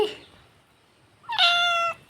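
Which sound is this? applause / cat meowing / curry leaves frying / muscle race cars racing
cat meowing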